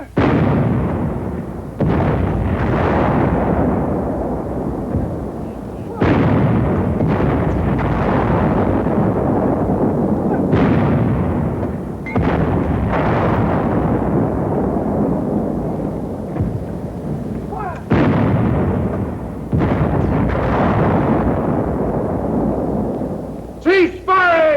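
Infantry weapon fire against a four-foot-thick roadblock at 800 range: a series of about seven loud, heavy blasts at irregular intervals, each with a booming rumbling decay, over constant battlefield noise.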